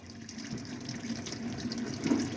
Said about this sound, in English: Hot water coming out the taps.